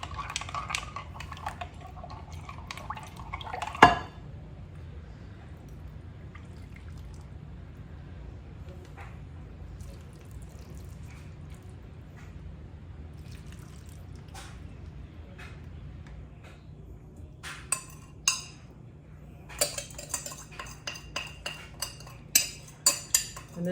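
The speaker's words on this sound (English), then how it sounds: "Let's stir it up really good." Marinade is stirred in a bowl with a utensil during freezer meal prep, giving a faint steady scraping under a low kitchen hum, followed by a sharp clink and a run of light clinks and taps near the end.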